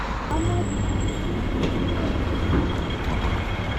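A metro train rumbles past close by in Shek Mun, Sha Tin, Hong Kong, a loud steady roar of wheels on rails with faint high squeals and clicks.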